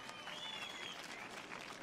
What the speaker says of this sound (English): I wanted to give a round of applause for yourself for being here today